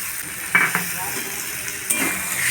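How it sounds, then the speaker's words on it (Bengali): Bottle gourd stem curry being stirred in a frying pan, a low steady sizzle with a few distinct scrapes of the spatula against the pan, close and clear with no talking. "আবারও একটু ভালো করে নাড়াচাড়া করে নেবো"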